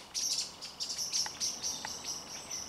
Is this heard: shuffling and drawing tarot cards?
no